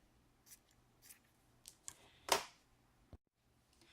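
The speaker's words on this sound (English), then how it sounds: "You just grab your scissors and kind of trim away the sides" Soft, close snips of scissors cutting paper, a few light cuts followed by one sharper, louder snip, in an otherwise quiet room.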